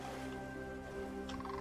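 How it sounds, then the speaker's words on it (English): Ibis birds in the AER Memories of Old video game give a short gobbling call over steady ambient game music. "I think they're ibises."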